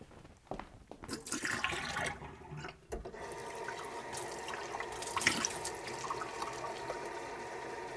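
Tap water runs steadily into a sink while a painter's rinse water is changed during a watercolor session, with splashing and a few louder gushes and brief pauses, close by with no talking.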